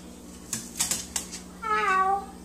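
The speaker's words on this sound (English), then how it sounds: "Quit meowing at Angel." A cat meows in a single drawn-out call, loud and close, after a few sharp clicking or tapping sounds, with a faint steady hum underneath.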